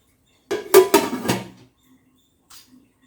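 A metal lid set down onto a cooking pot gives a few loud, close clattering clanks in quick succession, followed by quiet and a faint later rattle.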